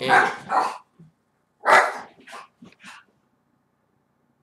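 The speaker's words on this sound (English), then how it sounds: "excuse the dogs barking, guys." Dogs bark outside in a residential neighborhood, a burst of several sharp barks in quick succession, then a pause and a few more smaller yips trailing off into silence; a voice briefly speaks at the start.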